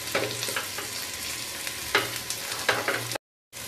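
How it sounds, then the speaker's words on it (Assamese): Spices sizzle in mustard oil in an iron wok, a steady close-up frying hiss broken by several scraping stirs, then the sound cuts off abruptly for a moment near the end before it resumes. "এই গোটেইখিনি মই ৰংচোৱা হোৱালৈকে ভাজিম"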